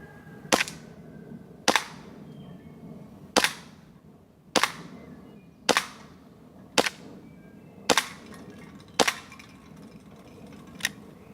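A WE M1911 gas blowback airsoft pistol fires eight sharp, loud shots at roughly one-second intervals, each a crisp crack with a brief mechanical ring, no talking between them.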